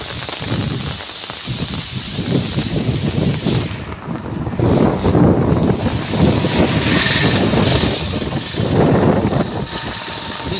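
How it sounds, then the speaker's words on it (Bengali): Strong gusting storm wind roars hard against the microphone outdoors on a cold, rainy day, rising and falling in loud surges throughout. "বিশাল ঝড় আপনার ছাতি রাখা যাচ্ছে না"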